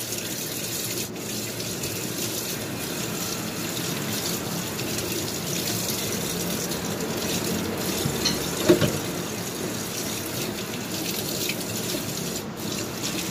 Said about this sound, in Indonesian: Bilasnya pelan-pelan aja